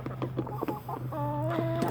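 Chickens cluck softly in short irregular bursts, with a higher tonal call near the end, over a steady low hum.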